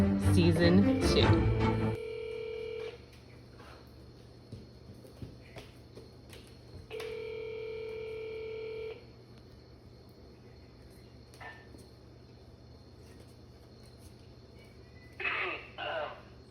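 A phone line dials out, with a brief burst of rapid touch tones, a steady ringback tone pulsing twice with quiet gaps between, and a faint clatter near the end as the call connects, no voices.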